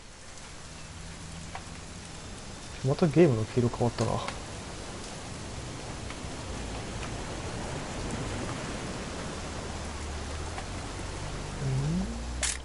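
Steady rain in a video game hunting-trip scene, a constant hiss of falling drops throughout, with characters briefly talking over it near the start and a low rumble toward the end.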